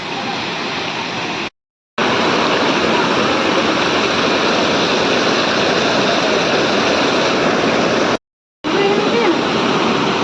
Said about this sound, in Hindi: गुंडीचा घागी वाटरफॉल